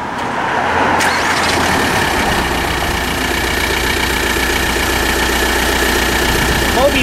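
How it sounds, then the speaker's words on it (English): A car engine cranks and starts, then settles into a steady idle that runs at constant loudness for several seconds, close by in a quiet night setting. "I gotta start the car."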